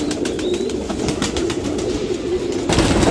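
Pigeons, including Taddy and Kaldume breeds, coo softly over a steady background hum, with a brief flutter of sound near the start.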